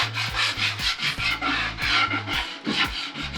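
Wood being hand sanded with a 120 grit sponge, a close rhythmic rasping as the sponge strokes back and forth about a dozen times without pause.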